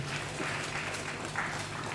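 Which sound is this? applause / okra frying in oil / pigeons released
applause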